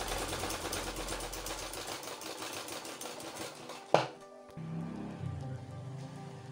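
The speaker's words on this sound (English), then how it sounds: "make sure that your sewing is straight, because here is always visible to people" A sewing machine stitches a front pocket in a fast, close, steady mechanical patter for about two seconds, then stops; a sharp clack follows before quieter handling noises.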